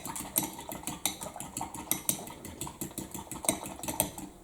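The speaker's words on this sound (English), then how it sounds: "with that fork that I was using, I'm going to whisk the egg and the egg white and the egg yolk together" A fork whisks egg white and yolk together in a bowl in a classroom, making rapid, regular clinking taps against the side of the bowl, close and steady, with no talking.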